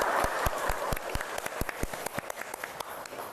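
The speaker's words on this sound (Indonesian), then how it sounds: "Kita kasih tepuk tangan untuk Mas Haikal." A classroom audience applauds at a university teaching session, giving a steady run of sharp hand claps of moderate loudness that fade in density toward the end, with no talking over them.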